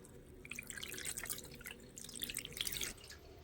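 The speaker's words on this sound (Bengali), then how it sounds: "এবারে এই ছানাটা উপর থেকে অল্প অল্প করে জল দিয়ে একটু ভালো করে ধুয়ে নেবো" Water is poured a little at a time over chhana cheese curds to rinse them, producing a faint, close patter of trickling and dripping that swells and fades in two waves, with no talking.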